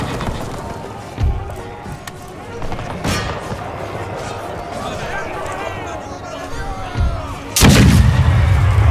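Cannon fire in the strategy game Total War: Empire, with several booming artillery shots spread out over the battle ambience and a heavier, louder blast near the end.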